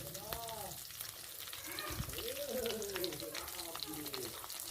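A pan on a very low flame as ingredients, including red hibiscus flowers, go in for a homemade hair-care preparation: a quiet, steady sizzle and soft stirring under a speaking voice.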